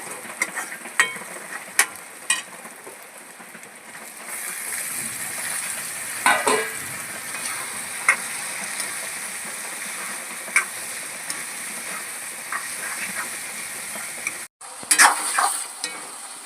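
Tomatoes cook in a pan over fried onions with a steady, moderate sizzle, scattered soft crackles and a few scraping clicks, briefly cut off near the end before resuming.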